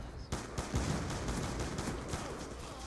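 Rifle gunfire in a video game, the FAL, a string of fairly faint rapid shots popping in a loose irregular rhythm over a continuous background rumble.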